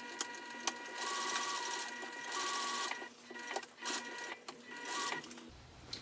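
A home sewing machine slowly stitches along the seam of a hobo bag's exterior, a close, fairly soft mechanical whir in several short runs broken by pauses and small clicks.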